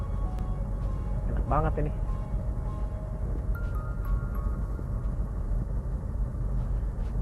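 A Nissan Terra diesel SUV with a six-speed manual gearbox climbs uphill at low revs, its engine a steady low rumble from inside the cabin. A person talks over it.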